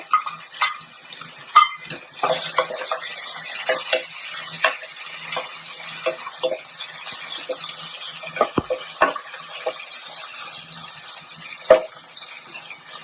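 Prawns tipped into a pan of green masala and stirred as they fry, for prawn pulao: a steady close sizzle with scraping spoon strokes and light clinks against the pan, no talk.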